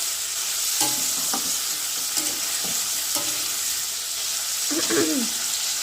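Prawn malai curry cooks on a stove, with a continuous close frying hiss and a few scattered scrapes and clinks of stirring, with no one speaking.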